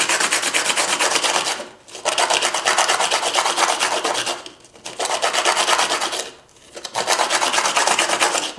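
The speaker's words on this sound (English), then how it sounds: "I'm in between sandpaper pad, like so. It makes that scratchy noise." Drawing pencil rubbed back and forth on a sandpaper pad, three long scratchy rasping strokes with short pauses between them, close and clear with no talking.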